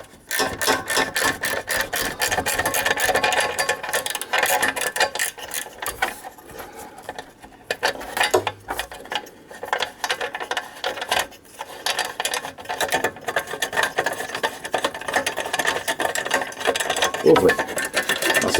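A ratchet with a 12mm socket loosens an exhaust clamp on a Triumph Speed Triple 1050S motorcycle, giving fast, close, continuous clicking that pauses briefly near the middle before resuming, with faint talk underneath.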